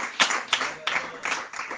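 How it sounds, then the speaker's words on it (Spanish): A church congregation claps in praise to Jesus, five or six distinct, evenly spaced bursts of hand claps, moderately loud and without talk over them. "¿Cuánto le damos ofrenda de palmas a Jesús por eso?"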